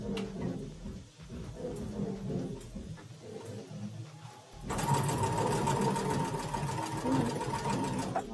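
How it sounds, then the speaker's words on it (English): A sewing machine runs a long straight stitch edge to edge on quilt binding, whirring steadily and loud through the second half after quieter handling noises and a faint voice. "Turn my machine on so that it automatically does the back stitching for me and the cutting."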